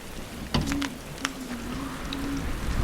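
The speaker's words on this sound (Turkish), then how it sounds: "Bayağı da yağmur yağdı. Ne zaman dinecek hiç bilmiyorum." Steady rain falling after a storm in Norway, a continuous hiss of drops on surfaces close by, with a few sharper taps and a faint tonal hum running underneath.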